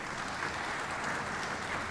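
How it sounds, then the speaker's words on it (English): Sustained audience applause fills a hall at a live world conference on consciousness, a dense, steady wash of clapping from a large crowd that carries evenly from start to end. "Give him the big clap."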